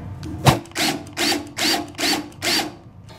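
A power drill whirs in five or six short, loud bursts with brief pauses between, close by and without speech.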